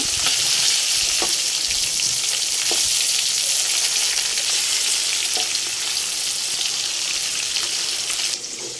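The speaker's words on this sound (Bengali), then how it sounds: "মাছটা এক সাইড ভাজা হয়েছে, তারপর আমি উল্টিয়ে দিয়েছি" Continuous loud sizzling of hilsa fish frying in hot oil, with occasional soft scrapes and taps from stirring, no voices.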